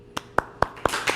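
Marines are applauded at a service-dog graduation ceremony with five sharp, evenly spaced claps in quick succession. They are close and distinct, over a quiet room.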